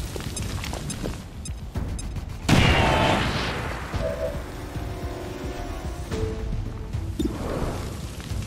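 A frag grenade blows up in the XCOM 2 strategy game, one loud sudden boom with a crashing burst that decays over a few seconds, followed by scattered smaller impacts and effects.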